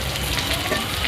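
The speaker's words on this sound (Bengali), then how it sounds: "তো দেখো বন্ধুরা, ছাতুটা আমার একদম লাল লাল করে ভাজা হয়ে গেছে।" Mushrooms frying in a pan make a dense, loud, even sizzle heard up close, with no pauses and no talking over it.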